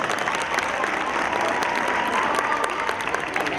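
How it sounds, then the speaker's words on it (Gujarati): Steady, dense applause from a large audience at a school annual function, many hands clapping together without a break and filling the hall. "તો જોરદાર તાળીઓથી આ પ્રોગ્રામને વધાવી લો."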